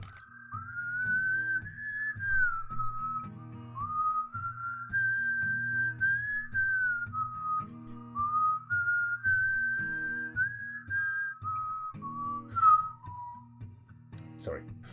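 A person whistles a wavering melody continuously and fairly close, held notes gliding up and down, over a low steady background hum.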